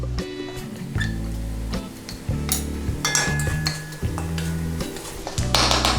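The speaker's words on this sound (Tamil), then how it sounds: "கொஞ்சம் பச்சை வாசனை போகிற அளவுக்கு கொஞ்சம் வதக்கிக்கலாம்" Chili and coriander powder sautéed in oil in a pan for a tomato curry, a spoon scraping and clinking against the metal pan in irregular strokes over a faint sizzle, close up with no talk.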